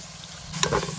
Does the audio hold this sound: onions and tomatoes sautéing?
yes